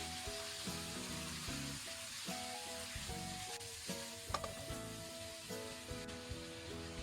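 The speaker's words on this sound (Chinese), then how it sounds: "下入松茸， 翻炒几下，炒匀" Matsutake mushrooms and scallions stir-fry in a hot wok, a continuous sizzle broken by clacks and scrapes of tossing, with no talking.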